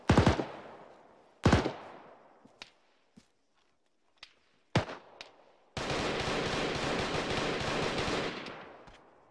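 Gunfire in the military video game Arma 3: a few sharp, separate shots that ring out and echo, a couple of fainter distant pops, then a sustained burst of rapid automatic fire to the end.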